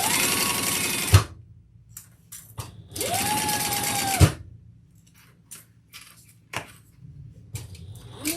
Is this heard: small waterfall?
no